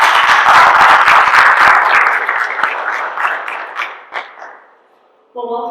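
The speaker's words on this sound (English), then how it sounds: "Can we have a round of applause?" An audience at a historic survey presentation gives a welcoming round of applause that starts loud and dense, then thins into scattered claps and fades out before a brief voice.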